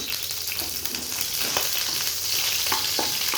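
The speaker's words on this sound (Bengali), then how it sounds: "পেঁয়াজটাকে ভেজে নিতে হবে" Steady, close hiss of something frying in hot oil, with occasional sharp crackles and a faint scrape of stirring.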